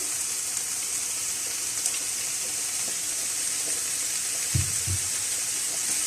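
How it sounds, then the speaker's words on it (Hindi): Chicken and vegetables for fajitas frying in a pan, a steady, soft sizzle that runs throughout, with a couple of brief low knocks near the end as the pan is stirred or moved. "अब वेजिटेबल्स ऐड करेंगे इसके अंदर और बस थोड़ी सी देर इसको पकाएंगे"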